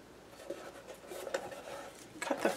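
Soft, uneven snips and crisp rustling of paper being cut up close, with a few sharper cuts near the end; no voices.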